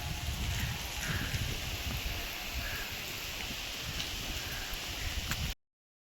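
Heavy rain pours steadily outdoors, a dense continuous hiss and patter close to the microphone for about five and a half seconds before cutting off abruptly.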